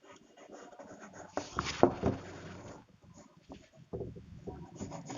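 Chalk scrapes and taps on a classroom board during a maths lesson, a busy cluster of strokes up close followed by lighter scratching, with room noise behind.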